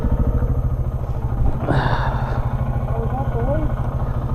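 A KTM 690 single-cylinder motorcycle is ridden through hot desert sand, its engine a steady pulsing drone throughout with a brief louder rev midway, close and continuous, with a voice speaking over it.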